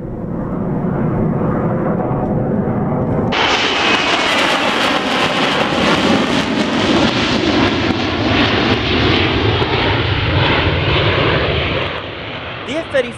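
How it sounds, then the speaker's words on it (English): An F-35A fighter jet roars loudly and continuously as it climbs, the engine noise swelling into a harsh, broad howl that stays steady and close before easing slightly at the end. "F-35A quick climbs can be absolutely breathtaking to watch."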